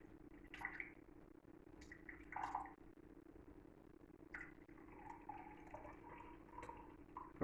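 Water being added to a pan of mushroom soup, with soft drips, splashes and liquid trickles against a faint steady hum, intermittent and fairly quiet.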